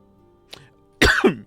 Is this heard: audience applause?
no